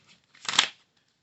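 Tarot cards shuffled once in a quick, close riffle that swells and fades within about half a second, with no talk.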